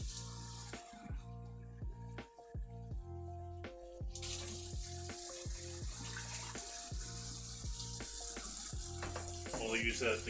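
Two cups of water are poured into a pan while cooking, giving a continuous splashing, running-water rush that grows brighter partway through, under steady background music.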